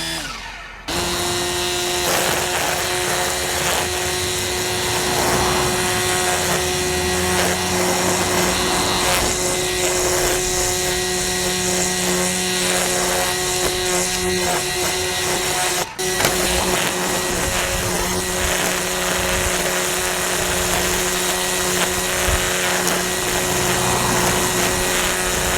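A Greenworks 82V cordless line trimmer runs at full speed, a loud, constant high-pitched motor whine that holds steady throughout with a brief dip near the start.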